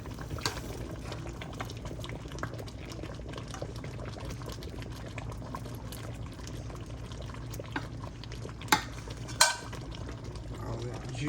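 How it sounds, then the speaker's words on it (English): Gravy with dumplings simmers quietly in a pan, a faint steady bubbling hiss broken by a few soft clinks and pops. "we're just going to let this simmer for maybe about 30 minutes and let that gravy cook into them"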